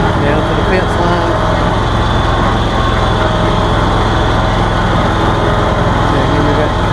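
A lawn mower engine runs loud and close at a steady pitch for the full stretch, with a constant drone and some wind, and a voice faintly underneath.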